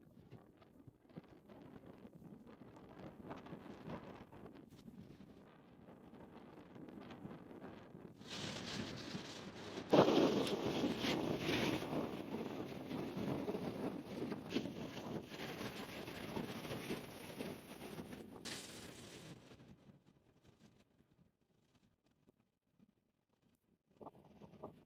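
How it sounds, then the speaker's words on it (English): Gusty wind buffets the microphone outdoors on a fishing trip near the water, a steady low rush that swells loudly through the middle stretch and then eases back to a quieter breeze. "The wind's picked up again."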